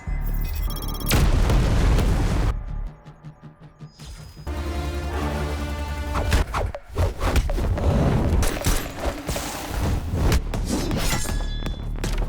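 Missiles fire and strike in a loud action-film fight scene, with heavy booming explosions, crashes and debris over roughly twelve seconds, broken by a brief quieter lull before the blasts resume.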